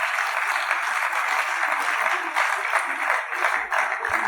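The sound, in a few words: audience clapping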